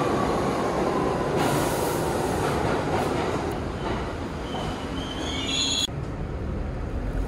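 A New York City subway train rumbles loudly and steadily, with rattling wheels and brief high metallic squeals near the end.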